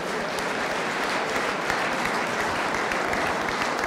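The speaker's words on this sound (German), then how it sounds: "Applaus auch für dich." Dense, steady applause from a large crowd at a promotion celebration on a hotel stage fills the whole stretch, loud and even without a break.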